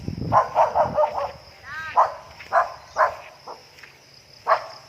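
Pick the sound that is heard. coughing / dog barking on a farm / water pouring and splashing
dog barking on a farm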